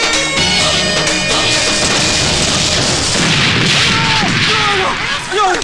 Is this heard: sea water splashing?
no